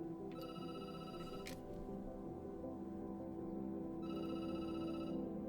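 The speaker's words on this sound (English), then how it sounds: "The phone rings and you jump." A telephone rings in the video game Night Call, with two bright bursts of electronic ringing separated by a pause, heard over a quiet background hum.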